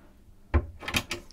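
A cabin door on a Princess S78 motor yacht opens with a soft thud followed by a couple of quieter knocks and rattles, close by and alone.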